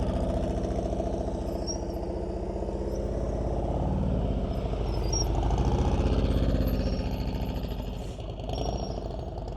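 A motorcycle engine holds a steady, close rumble through slow-speed riding practice in Maryland, the throttle kept loaded as the bike works through tight turns, with a slight rise and fall in revs and no talk.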